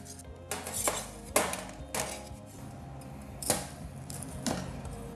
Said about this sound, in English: Notice I have to cut the pizza out of the pan for this Detroit style.